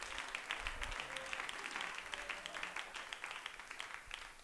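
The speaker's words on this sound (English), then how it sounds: "a round of applause?" Church congregation applauding at a Sunday service, a steady wash of many hands clapping at moderate, fairly distant level for several seconds, with faint voices underneath.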